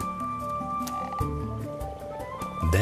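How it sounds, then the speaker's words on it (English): Common frogs croaking in spring around shallow spawning water, a steady low chorus of pulsing croaks running continuously, fairly close, with a few sharper clicks and no talk. "And the common frogs feel spring fever too."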